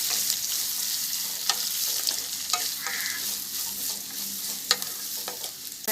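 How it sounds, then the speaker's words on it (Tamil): Two large chopped onions sautéing in a pan for a Tamil fish curry, a soft steady sizzle with occasional spatula scrapes and taps against the pan, close and alone. "அது கூடவே கட் பண்ணி வச்சுருக்க 2 பெரிய வெங்காயம் போட்டு இது நல்லா வதக்கிக்கலாம்."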